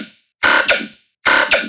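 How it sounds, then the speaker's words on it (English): Two punchy, gritty synthesized bass hits, each a harsh buzzing burst with a quick second accent, separated by a brief silence and heard cleanly with nothing else playing. "So I just wanted something gnarly, so I just did this bass."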